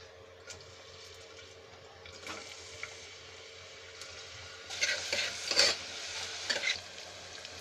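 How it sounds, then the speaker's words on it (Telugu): Onions and green chillies frying in oil in a pressure cooker, with soft sizzling and scraping stirring strokes that come in irregular bursts, close and fairly quiet. "ఆయిల్ వేడెక్కిన తర్వాత ఉల్లిపాయలు పచ్చిమిరపకాయలు వేసి వేయించుకుందాం"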